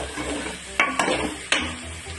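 Chopped tomato with turmeric and chili powder frying in a pan, a soft sizzle under a few sharp clacks of a spoon stirring against the metal.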